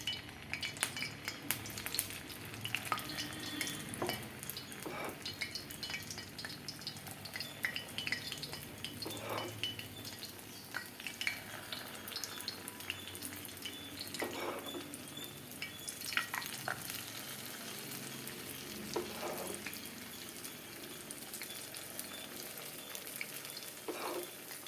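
Leftover idli batter fries in hot oil in a small unniyappam pan, giving a steady crackling sizzle with occasional metallic clinks and scrapes of a utensil, close and continuous without speech.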